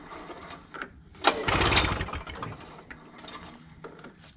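Vintage Polaris snowmobile engine, idle for about 20 years, pull-started by hand: a sudden loud mechanical rattle and rush of cranking noise lasting about a second, then fading into quieter clicks and rustling, with no words spoken.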